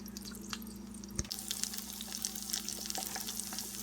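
An egg frying in leftover T-bone steak grease in a pan, a close, steady crackling sizzle that brightens and intensifies partway through, with no voices.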